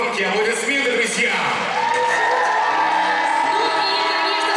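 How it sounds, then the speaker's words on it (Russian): A university beauty pageant audience in a packed hall cheers, whoops and shouts, with applause mixed into a loud, steady, dense crowd roar that holds for several seconds. "Давайте им подарим громкие аплодисменты, друзья!"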